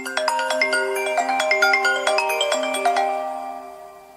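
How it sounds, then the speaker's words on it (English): Reflection, the exclusive default ringtone of the iPhone X, plays a bright, rippling sequence of bell-like synth notes over a sustained tonal bed, fairly close and clean, then fades out over the final second. "the iPhone 10 also gets an exclusive default ringtone called Reflection"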